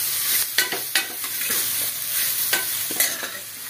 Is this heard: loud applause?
no